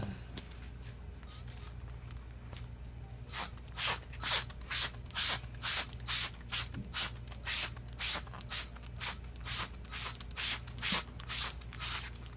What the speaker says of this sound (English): Spraying it over.